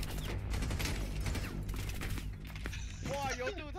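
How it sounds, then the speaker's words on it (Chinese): Gunfire in Rainbow Six Siege: rapid bursts of automatic shots and mechanical weapon clatter fill the scene, with a voice heard briefly near the end. "妈的，我帮油柱挡子弹"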